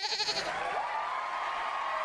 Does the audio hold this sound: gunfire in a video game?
no